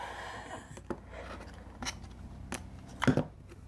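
Quilting fabric is cut with a few short, soft, crisp strokes spread across a quiet span, the last one louder and rougher, with no talk.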